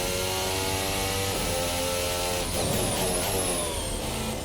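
An RSS Formula Hybrid 2022 race car in Assetto Corsa howls at full power in fifth gear with a steady, loud engine note that rises through the revs, continuous and close.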